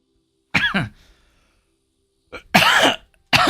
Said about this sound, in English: I've been fighting this cough for a bit